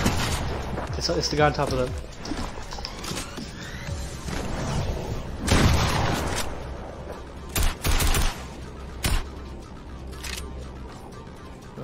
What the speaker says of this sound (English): who the fuck is shooting a bullet?